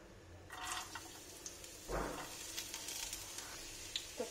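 Chopped carrots and other vegetables hit a pan for street-style Maggi, and a brief burst of sizzling gives way to a faint, crackling fry with light drips and scrapes.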